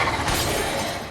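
Glass shattering in the video game The Wolf Among Us, a loud dense crash with a bright spray of breaking shards that rings out briefly, with no voices over it.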